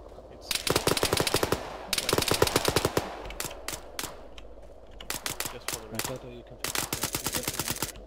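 A heavy gunner's machine gun in a video game firing in long rapid bursts with short pauses between them, loud and close, with occasional voices underneath.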